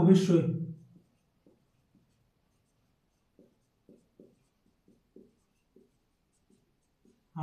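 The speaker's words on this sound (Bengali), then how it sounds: "অতএব এদিকে লিখে দিই" Pen or chalk writing out a ring theorem proof in an abstract algebra lecture: a brief voice at the start, then a sparse series of faint, short scratching strokes in near silence, with the voice returning at the very end.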